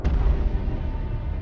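A fireball explosion in a tunnel, as an anime sound effect: one heavy, rumbling blast that hits at once and keeps roaring at full strength across the short clip.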